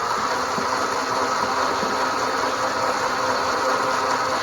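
An electric motor running on a 12-volt battery gives a steady, continuous hum with a constant pitch and even loudness, whirring without pause for the whole stretch.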